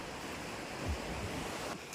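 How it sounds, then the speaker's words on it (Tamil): Sea waves at Mahe beach in Kerala, a steady washing roar of surf with wind buffeting the microphone, continuous and moderately loud with no voices. "ஃபுல்லாக கடல் அலைகள் வந்து வந்துக்கிட்டே இருக்குது."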